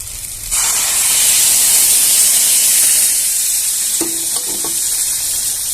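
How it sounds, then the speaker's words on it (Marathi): Hot milk poured into frying semolina sheera (rava prasad) sets off a loud, steady hiss and sizzle that starts abruptly and carries on, with a few light stirring clinks near the end. "इथे आपण गरम करून घेतलेलं दूध घालून घ्यायचे"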